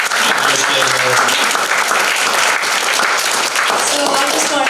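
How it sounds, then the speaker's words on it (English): Loud, sustained audience applause at a comedy show at China Institute, dense clapping throughout with a few voices calling out briefly near the start. "please give a big round of applause to Christopher, Jesse, Norah, and Christophe"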